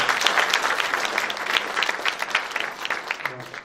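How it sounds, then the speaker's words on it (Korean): An audience at a 2018 citizens' town-hall dialogue in Incheon's Seo district claps to welcome the mayor, a dense burst of applause from a crowd that tapers off toward the end. "유정복 시장님을 다시 한번 큰 박수로 맞아주시기 바랍니다"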